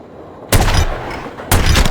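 Two loud gunshots fired at a practice dummy in The Godfather video game, spaced about a second apart, each a sharp blast with a short rumbling tail, with no talking.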